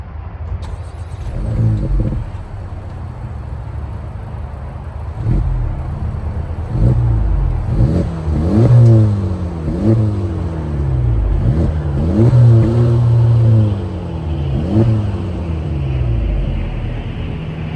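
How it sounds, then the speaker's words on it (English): Engine and exhaust of a 2024 Acura Integra Type S heard from outside the car, idling then revved repeatedly in a series of sharp rising blips that fall back, loud and close with no talking. "Let's hear how it sounds from the outside."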